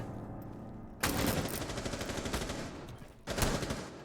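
Automatic rifle fire in Rainbow Six Siege erupts in two rapid bursts, a long rattling string of close shots followed by a short second burst, over quiet game ambience.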